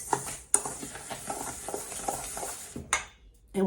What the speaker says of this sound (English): Mix, mix, mix, mix, mix, mix, mix, mix,